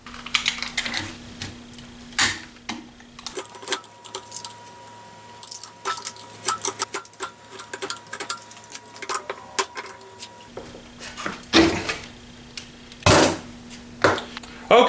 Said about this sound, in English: I'm going to clean this up with a razor blade now.